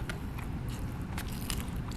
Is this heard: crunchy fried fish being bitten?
yes